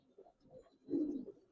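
Giribaz pigeons at a pigeon farm coo softly in short throaty bursts, a few low murmuring calls close by with a fuller swell near the end.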